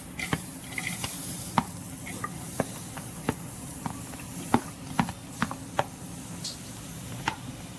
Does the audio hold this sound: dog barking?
no